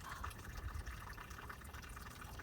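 Water trickles at the base of a large, living tulip poplar tree outdoors, a faint, steady, continuous flow with no one speaking.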